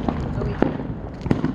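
Fourth of July backyard fireworks pop in two sharp cracks against a steady hiss of burning, with a voice faintly audible nearby.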